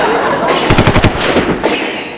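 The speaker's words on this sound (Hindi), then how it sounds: "ये मेरे पे गोली चला गया।" A staged comedy show gunshot effect: a rapid burst of about six loud automatic-fire cracks in quick succession, close and sharp, followed by a couple of fainter trailing shots.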